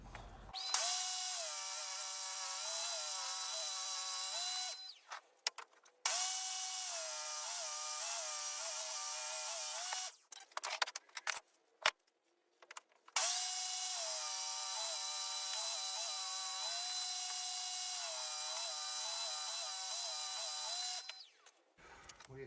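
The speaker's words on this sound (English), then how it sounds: "I can run it through the planer again" A planer smoothing cut wooden boards for a Moses basket rocker: a loud, steady high-pitched mechanical whine runs in three long passes with short gaps and rattles between them.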